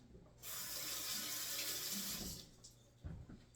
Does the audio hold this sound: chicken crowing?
no